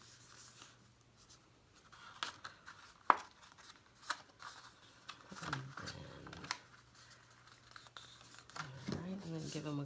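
Paperboard tabs on a Cricut-cut hide-away box being folded in and creased, with soft crinkles and sharp pressing clicks scattered through a quiet stretch, then louder rustling and scraping near the end.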